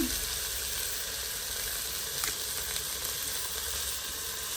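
Onions and curry leaves sauté in a clay pot for a Jaffna-style country chicken curry, giving a constant, close, even sizzle throughout with a faint scrape partway through.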